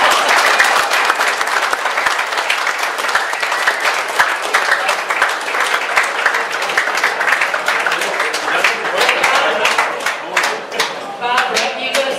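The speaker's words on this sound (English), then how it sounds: "Jim's a great guy, but Joan and Barbara need a bigger clap because they're the ones that are here all the time." Loud, sustained applause and clapping from a crowd at a rugby league club's season launch, dense and close with individual claps standing out and tapering near the end.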